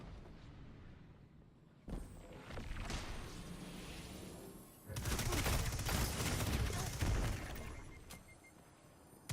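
Rapid SMG gunfire in a multiplayer shooter video game match with zone captures, dense bursts of shots that build up and grow louder in the second half, mixed with game noise.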